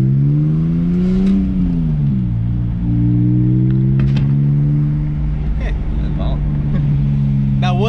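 A BMW E46 M3 with a muffler-equipped exhaust drones loud and close, its engine note rising and falling through revs with a deep, smooth tone, while people talk over it.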